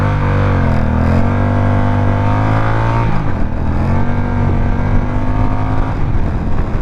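Honda Rebel motorcycle accelerating in first gear, engine note rising steadily, dipping briefly at a shift point around the middle, then climbing again, loud and close throughout.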